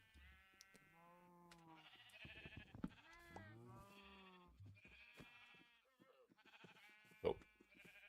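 Sheep bleat repeatedly in the Minecraft video game, several wavering calls overlapping in quick succession, clear and close with brief gaps between them.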